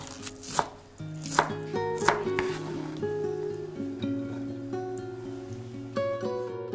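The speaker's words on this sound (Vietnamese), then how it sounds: "Mình cắt nhỏ phần hành lá đã chuẩn bị khoảng từ 2 đến 3 tép hành lá nha." A knife chops green onions on a cutting board for an eggplant dish, giving several sharp, close taps at an irregular pace over a quiet kitchen hum with no talking.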